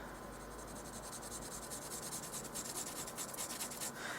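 2B pencil shading lightly over marker on paper, a steady close scratchy rubbing that continues throughout with no talk.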